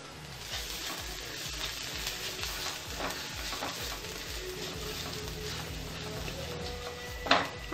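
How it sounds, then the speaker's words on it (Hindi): Onions, garlic and green chili fry in a kadhai with a steady sizzle, while a spoon stirs and scrapes through the pan, ending with a sharp metallic clink near the end. "और मैंने कढ़ाई में प्याज भी डाल दिए हैं, लहसुन हरी मिर्च और प्याज डाल चुकी हूँ मैं इसमें।"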